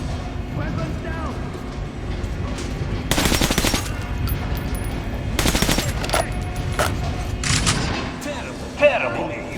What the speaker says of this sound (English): Shoot the dummy in the head.